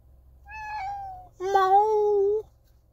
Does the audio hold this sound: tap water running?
no